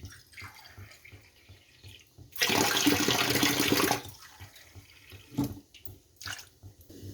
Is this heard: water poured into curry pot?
yes